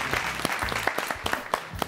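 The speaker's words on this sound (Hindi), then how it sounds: "तालियां बाज गई बा" Studio audience applauding on a Bhojpuri television game show, a steady burst of close, lively clapping with scattered sharper claps, no speech over it.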